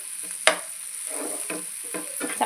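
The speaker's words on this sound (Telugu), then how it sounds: "ఇప్పుడు ఇలానే ఉంచి ఫ్రై చేసుకోవాలి" Goat meat with tender tamarind leaves fries in a pan, village style, with a steady close sizzle and a few scraping stirs, including a sharp clack near the start.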